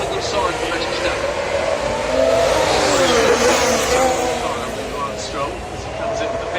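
Formula 1 race cars at the Singapore night race, a loud continuous engine roar rising and falling as cars pass, with commentary voices over it.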